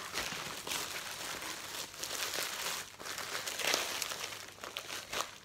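Continuous crinkling and rustling of plastic bubble envelopes being handled, up close and steady, with small crackling bursts throughout.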